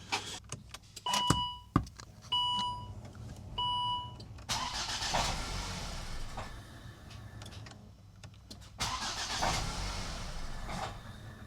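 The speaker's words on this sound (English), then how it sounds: "turn the engine over now and it won't fire because it doesn't have the pump" A Volvo V70 T5 engine cranks repeatedly with its fuel pump disabled, giving short bursts of starter whirring and sputtering that never catch, separated by warning chimes and quiet pauses.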